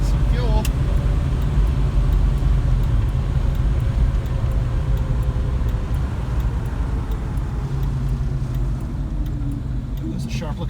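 A Plymouth Duster rolls into a fuel station, its engine a steady low rumble up close with road noise around it, easing off slightly as it slows.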